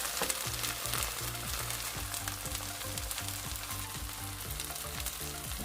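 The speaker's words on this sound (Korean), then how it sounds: "밑면이 노릇해지면 뒤집어서 중불에서 구워주세요." A Korean minari pancake sizzles steadily in a pan as it browns over medium heat, a constant close crackle of frying oil with no talk.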